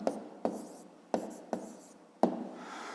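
A pen writing down the answer to a fifth-grade maths exercise on paper: close, soft scratching broken by several sharp taps as strokes start, with no talk.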